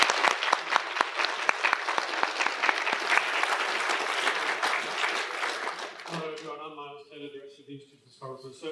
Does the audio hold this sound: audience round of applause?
yes